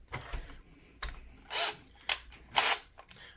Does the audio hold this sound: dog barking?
no